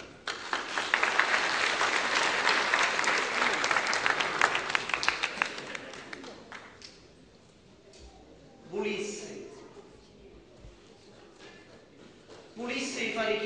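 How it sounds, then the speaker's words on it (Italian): An audience applauds loudly for several seconds before the clapping fades, followed by a person speaking and brief bursts of renewed clapping. "e vi faccio gli applausi"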